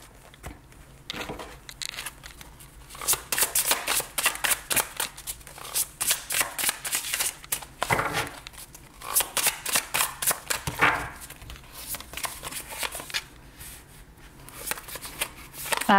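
Tarot cards shuffled by hand for another spread, giving repeated quick riffling and flicking bursts at close range that run in uneven clusters throughout, with no talking over them.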